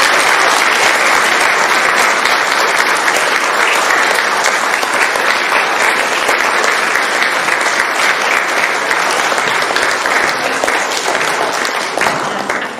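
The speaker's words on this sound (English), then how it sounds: "We just give Father a clap." A congregation at a First Holy Communion gives the priest a long round of applause, loud and dense clapping from a large crowd that holds steady throughout.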